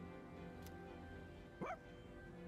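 A small dog in the Persona 3 Reload video game gives a single short, bright bark-yip over a quiet, steady game background hum.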